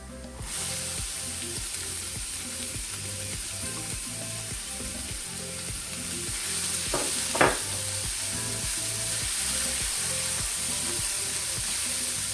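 Asparagus and onions fry in a pan with a continuous, close sizzle under a rhythmic scraping of stirring, and a brief sharper clatter partway through.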